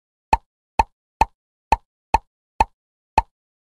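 Seven crisp, isolated plops of bubbles popping when tapped in a kids' learning game, spaced at a roughly even pace with silence between each pop.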